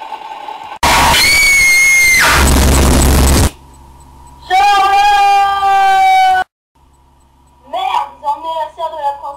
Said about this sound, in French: Écoutez-moi ces cris, ce doublage fait maison avec la bouche.